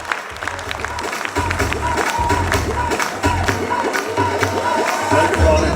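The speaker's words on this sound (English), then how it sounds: "Give him a huge round of applause as he walks onto the stage." Applause for a guest stepping onto the stage at an industry members' meet held at a resort, with clapping and some cheering running steadily over a low hum. Loud, continuous crowd noise with a few voices mixed in.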